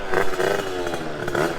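A modified moped engine, tuned to go over 65 mph, runs and revs while still warming up, with a rough, buzzing two-stroke-like drone that stays loud and close through a short burst.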